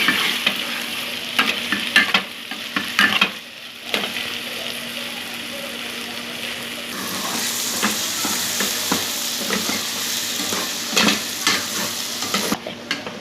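Fava beans fry and sizzle in a pot while being stirred, with scraping, clattering stirring strokes early on and then a steady loud hiss of frying.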